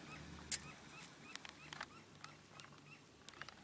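Desert birds squawk and chirp in short, scattered bursts at a moderate distance, with one sharper call standing out early over a quiet outdoor background on a hiking trail.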